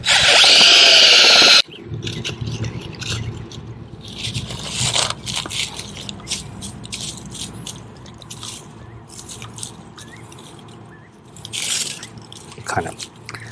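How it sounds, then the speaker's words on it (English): Small auger bit on a power drill boring into the ground, a gritty grinding churn of soil with a loud burst at the start and uneven scraping that rises and falls, heard up close. "This little auger bit's working way better than the bigger one."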